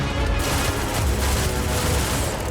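High-powered electromagnetic induction ballistic array weapons firing in the Starfield video game, a loud, dense, unbroken roar of rapid shots lasting several seconds with no pauses.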